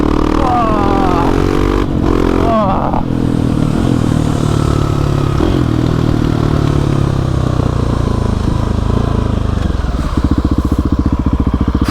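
A big four-stroke motorcycle engine rumbles loudly up close, revving up and down with a deep, throaty growl that holds throughout.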